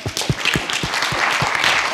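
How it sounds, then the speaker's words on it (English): Audience applause at a European Heritage Days forum, a dense burst of many hands clapping at close range, steady for the full two seconds with no voices on top. "Give him a round of applause."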